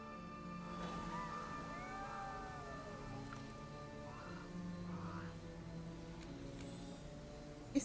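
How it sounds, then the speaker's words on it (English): A cat spirit in the AFK Journey video game meows softly a few times over a quiet, steady game background with faint tonal hum and a small click near the end. "It's meowing."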